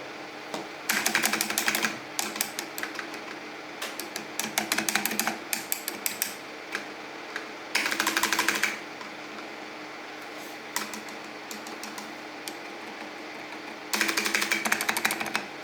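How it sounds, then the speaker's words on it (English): KBParadise V60 mechanical keyboard with Matias Silent Linear Alps switches, keys pressed in rapid bursts of clattery typing with rattling stabilizers, close and loud, separated by brief quieter pauses. "So this thing rattles on the left, this thing rattles on the right."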